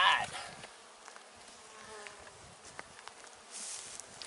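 Buckfast honeybees buzz in an active hive during a requeening check, a soft steady hum with individual bees droning close by now and then, fairly quiet overall.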